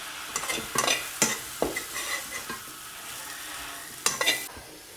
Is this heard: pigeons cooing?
no